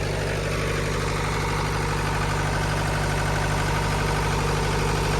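A 275 DI tractor engine runs steadily, driving a straw reaper, a loud, even diesel drone with a low rhythmic throb and no pauses.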